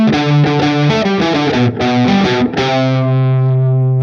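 A distorted electric guitar plays a chugging riff of repeated chords, then lets a final chord ring out and fade, loud and alone.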